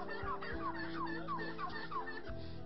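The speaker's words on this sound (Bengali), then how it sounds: "টার্কি মূলত আমাদের দেশের পাখি নয়, এটি নর্থ আমেরিকার একটি পাখি।" Turkeys on a turkey farm in Bangladesh give a run of repeated, warbling gobbles, several calls overlapping at a steady, close-up level with no talking.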